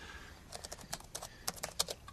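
Fingers tap out a quick, uneven run of keystrokes on a computer keyboard, close and fairly faint, with small pauses between bursts and no talking over it.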